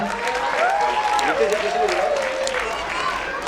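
Applause from an audience welcoming a speaker at a children's culture camp event in Indore, steady clapping heard close with a voice speaking over it throughout.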